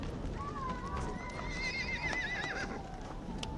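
A Mongolian horse whinnies in a long, wavering neigh lasting a few seconds, with faint hoof clip-clops and steady outdoor background noise at a ceremonial horse race gathering.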